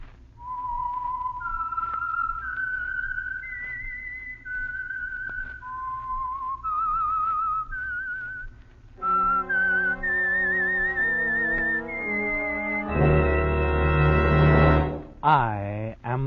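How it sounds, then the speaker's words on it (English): The Whistler radio program's signature theme, a lone human whistle tracing a slow, eerie melody, followed by orchestral music swelling in with sustained brass and strings and a loud closing chord. "the signal to listen for is this whistle that identifies the Signal Oil program"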